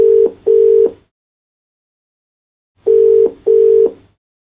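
A telephone line tone sounds while a caller is put through on a phone-in broadcast: two short beeps, a pause of about two seconds, then two more beeps. It is loud and clean with no voices.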